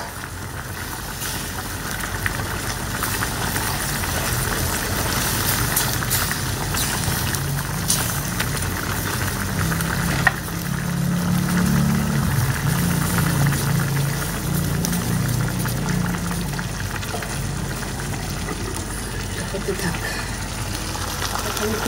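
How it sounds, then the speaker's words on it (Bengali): Curry with fish bubbling and boiling steadily in a pot on a home stove, a continuous simmering hiss and gurgle at moderate loudness with faint background activity throughout. "সেটা না টকবক টকবক করে ফুটে উঠছে, এখন ভালো করে ফুটে উঠছে।"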